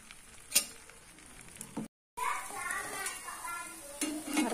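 Martabak egg batter with spring onion and beef meatballs frying on a hot griddle pan, a steady close sizzle with stirring and scraping, briefly cut to silence, while children chatter in the background.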